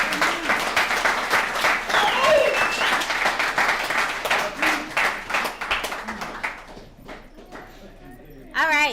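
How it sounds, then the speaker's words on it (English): Alumni recovery meeting audience applauds a speaker, a steady wash of clapping from many hands that thins toward the end, with voices and whoops mixed in and a brief burst at the close. "let's give David another round of applause"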